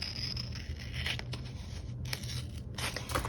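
Scissors snip through washi tape at a desk while decorating a Hobonichi Weeks planner, a few close crisp cuts and tearing rasps over a steady low hum, with no talking.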